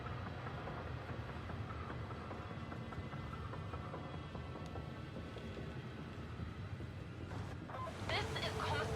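A rogue train in Warhammer 40k Darktide roars on in a thick, continuous rumble of rattling metal and rolling wheels. A short burst of voice-like sound breaks in near the end.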